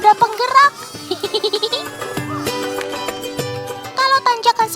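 Goats bleat in short repeated calls over a bright music backing, the animal cries rising above the tune at the start and end.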